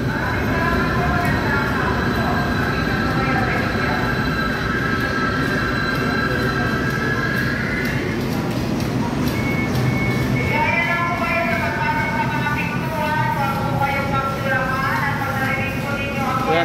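A train on the line to Baclaran in Pasay, a loud steady rumble and roar with long sustained tonal whines and squeals, wheels or motors pitching up and down, while a person speaks over it.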